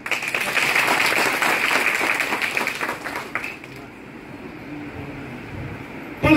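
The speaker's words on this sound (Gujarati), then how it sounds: "એના માટે તાળી થઈ જાય." A crowd at a political tribute gathering in Gandhinagar breaks into applause, loud and steady for a few seconds before thinning out and fading to a quiet room.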